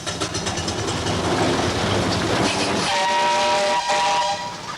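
A 1928 Foden steam traction engine runs with a rhythmic, clattering mechanical churn. Partway through, a sustained steam whistle sounds over it. The engine is loud and fairly near, and no one speaks.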